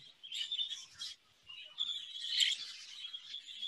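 A pet budgie chirps in a steady run of bright, high-pitched tweets and warbles, close and fairly soft, with a brief pause near the one-second mark.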